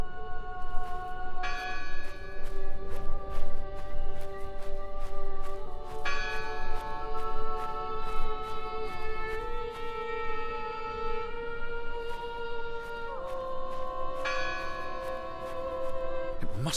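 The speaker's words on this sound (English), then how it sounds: "It must be her ringing the bell." A church bell tolls repeatedly in the video game Draugen, each strike ringing out with long overlapping resonant tones that layer and decay over a low ambient bed, with no voices.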